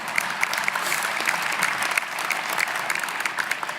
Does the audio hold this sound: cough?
no